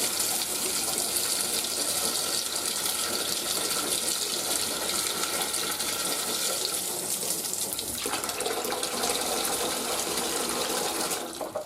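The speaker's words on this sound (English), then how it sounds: "Just ensure the water is cold as it fills" Steady rush of cold water pouring into the tank of a Beldray 4-in-1 air cooler, continuous and fairly loud, shifting slightly in tone partway through as the level rises.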